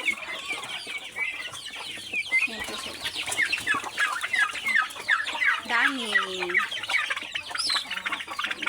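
A flock of turkeys calls nearby from a pen in the countryside, a busy mix of clucks and warbling gobble-like cries, while a person speaks briefly over them.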